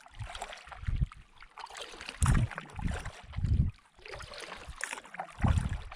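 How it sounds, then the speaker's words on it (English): Solo canoe paddling across a very big wilderness lake in Quetico, with soft rhythmic paddle strokes and water swishes recurring about every second, quiet and close, with light wind. "a nice relaxing paddle across a very big lake"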